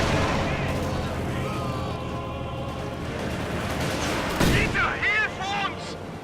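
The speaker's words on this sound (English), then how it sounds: "Another nasty strafe there." Aircraft strafing gunfire in Company of Heroes 2, with a dense rumble of battle and bursts of shots and impacts building toward the end, under a background of game noise.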